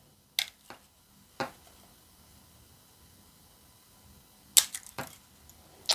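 Scored stained glass snapping under running pliers, a few sharp, short pops and cracks separated by quiet pauses, close and crisp.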